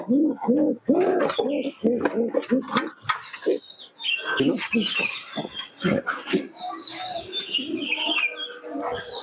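Several pigeons coo repeatedly at close range, throaty rolling calls overlapping, with scattered chirps and rustling in the background.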